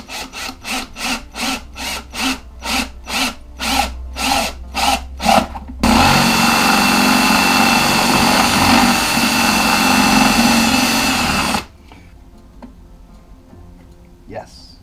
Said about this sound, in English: Big drill bit, big drill.